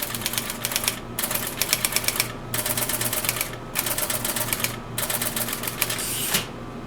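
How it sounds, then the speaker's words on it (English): A Bendix G-15 computer's typewriter prints its output in rapid clattering bursts of keystrokes, with several runs separated by short pauses, close and clear with no talking. "I should be able to hit S here, and it should type again."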